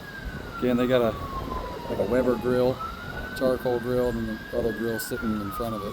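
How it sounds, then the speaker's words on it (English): An ambulance siren wails steadily from a road beside a residential pool area, running continuously under a man's close, ongoing talk. "So you can hear an ambulance going by now."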